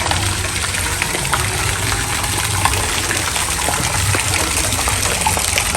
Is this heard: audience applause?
no